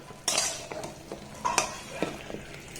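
A utensil stirs gulab jamun through thickened sugar syrup in a pan, giving a series of close, sharp scrapes and clinks at an uneven pace, with no talking.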